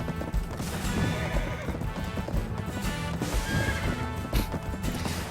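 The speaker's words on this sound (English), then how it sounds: "You can see that this horse is a lot faster than the one my ninja was riding." A horse in the video game Black Desert whinnies and gallops, with rapid clip-clop hoofbeats running throughout beneath a loud neigh.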